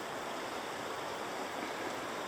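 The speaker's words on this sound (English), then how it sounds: "Flows into the White Mud Creek" White Mud Creek flowing through town during a spring melt, a soft, continuous rushing wash of water heard from some distance, even and unbroken with no voices.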